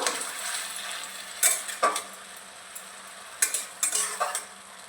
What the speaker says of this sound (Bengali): এবার গ্রেট করা আলুটা আমি দিয়ে দেব এর মধ্যে। ভালো করে মিশিয়ে নেব।